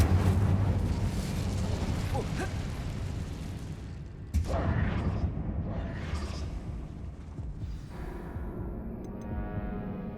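An Incendio fire spell cast inside a closed mine tomb in Hogwarts Legacy, a muffled whooshing burst followed by a sharp flaring crackle midway, over low ambient rumble.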